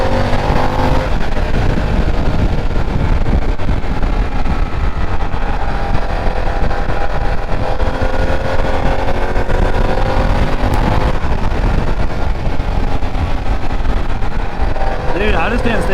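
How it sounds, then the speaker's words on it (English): Harley-Davidson Pan America 2024 adventure motorcycle ridden hard on the throttle, a loud steady engine drone with rising revs and wind rush throughout, a rider's voice talking over it at points. "I just can't stay out of the throttle on this thing."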